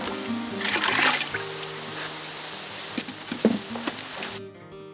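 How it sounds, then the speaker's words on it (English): Water pours into a small plastic bucket with a trickling, splashing stream at first, then a few dribbles and drips before it stops. "We're going to put a little bit of water in this bucket"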